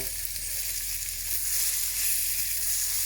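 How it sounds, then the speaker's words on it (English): Pork sizzles and fries steadily in nutty browned butter, a close, continuous dense crackle with no talking. "We're looking for that nice nutty colour coming through there from the butter"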